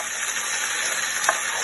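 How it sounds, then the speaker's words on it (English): Garlic and ginger frying in a pan for tarka dhal, a steady loud sizzle with a brief stir of the spoon near the end. "can see that the garlic and the ginger are cooking"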